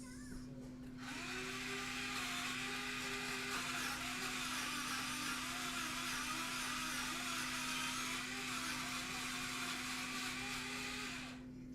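An electric pencil sharpener grinds a gray pencil in one continuous, steady whirring run of about ten seconds with a constant hum, heard from a short distance and fairly quiet.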